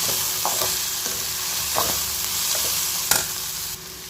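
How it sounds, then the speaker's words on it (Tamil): Onions sauté in hot oil in a pan for tomato chutney, a continuous soft sizzle broken by several sharp scraping stirs of a spoon against the pan, heard up close with no talking. "வெங்காயம் நல்லா வதங்கிட்டு இருக்குது"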